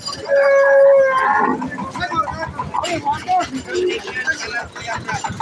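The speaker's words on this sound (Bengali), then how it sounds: "গাভী গরু একটা দেখতে পাচ্ছি" A cow moos at a busy rural cattle market, a long low call near the start rising over the crowd, then fading into steady babble of people talking and milling about.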